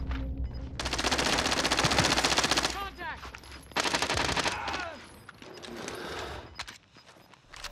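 Rapid automatic gunfire in Call of Duty Warzone, loud close bursts with short gaps between them, plus ricochet-like whines and scattered distant shots.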